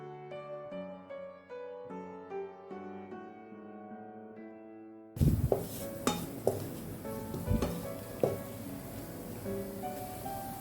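Coriander and turmeric powders are sautéed and stirred in a pan for Kerala fish molee, heard as close scraping and clinking of a utensil against the pan after a stretch of background music.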